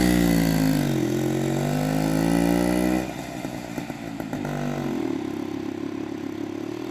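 A 1953 Peugeot type 55 125 moped engine running cold, first revving loud with a buzzing, wavering pitch, then dropping to a rough, uneven idle that threatens to stall, heard close without talking.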